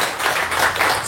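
A brief burst of applause, many hands clapping together in a dense, steady patter, fairly loud and close.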